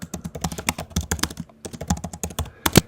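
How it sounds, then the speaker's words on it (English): Rapid, uneven clicking of keys on a computer keyboard while entering data into a spreadsheet, close and crisp, with one short pause midway and no talking. "then we want to go and start typing things in"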